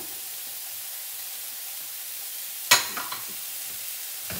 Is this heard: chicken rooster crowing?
no